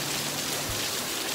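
Steady rain falls in a constant, even hiss of drops with no let-up, heard alone without voices.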